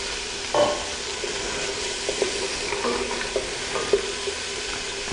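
Onions and diced carrots cook in a pan for a tomato and chickpea soup, giving a steady low sizzle with a few soft stirring scrapes and clinks, close up with no talk.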